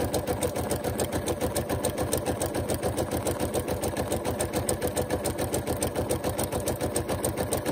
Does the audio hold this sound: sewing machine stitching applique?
yes